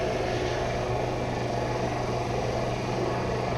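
Helicopter engine and rotor in the Shergood S64 flight simulator game, a continuous even drone with a low steady hum, close and fairly loud with no talk over it.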